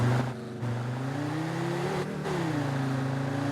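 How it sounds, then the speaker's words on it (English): A car engine revs in the video game Drive Beyond Horizons, a loud steady motor hum that climbs in pitch, dips briefly and rises again, heard close and alone. "rev it up"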